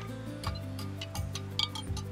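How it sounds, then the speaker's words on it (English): Crystals of an AquaCure AC50 treatment being stirred into liquid to dissolve, a spoon ticking and clinking against the container in a steady rhythm of light taps, close and moderately quiet, with a low hum underneath. "slowly, we're going to put it in and start stirring"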